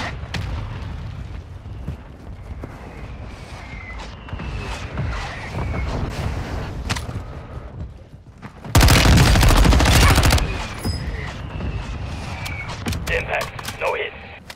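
A burst of mortar-strike explosions lands in Call of Duty: Modern Warfare II, a loud broadband blast lasting over a second amid steady battlefield gunfire and radio voice chatter.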